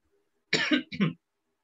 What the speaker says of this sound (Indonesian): Maaf ya, saya agak batuk.